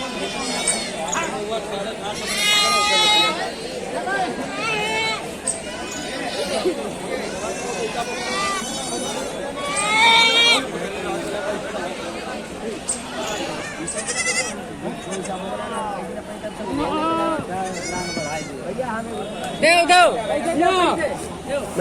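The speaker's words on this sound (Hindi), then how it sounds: "देसी बकरा बकरी।" Desi goats bleat repeatedly at a crowded goat market in Hardoi, Uttar Pradesh, their calls rising over constant crowd chatter and voices nearby.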